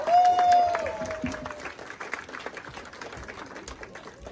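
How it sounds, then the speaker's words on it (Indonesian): A crowd claps steadily, a bright whistle-like tone rising over the opening second before the clapping continues evenly underneath. "Tepuk tangan."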